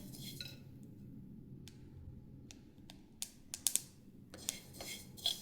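Sesame seeds crackle faintly while roasting: sparse, tiny sharp pops scattered over a quiet background hiss, growing a little more frequent toward the end.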